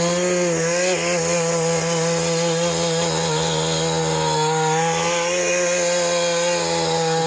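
A small two-stroke engine, freshly fitted with a swapped piston, idles and revs steadily with a buzzy, harmonic drone that holds close and loud throughout with slight pitch wavering.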